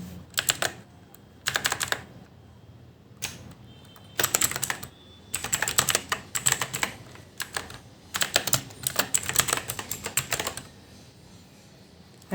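Someone types on a computer keyboard while entering a work email, producing quick bursts of close, crisp key clicks separated by short pauses, with no talking.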